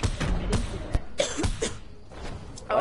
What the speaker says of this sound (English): Oh no, sorry, I had to cough.